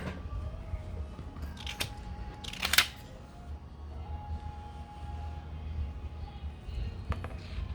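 Scissors cutting vellum paper, a couple of brief crisp snips over low room hum.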